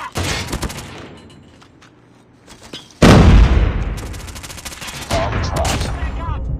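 Gunfire in the mobile shooter Call of Duty Mobile during a match with sniper rifles, heard as loud cracking bursts and a heavy shot partway through, with rattling fire and game noise continuing around it.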